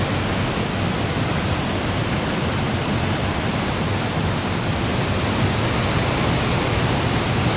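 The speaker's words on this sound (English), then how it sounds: "Thank you, Tembok Barak Waterfall." Tembok Barak Waterfall in north Bali roars as a steady, dense broadband wash of falling water, constant and unbroken throughout with no voices.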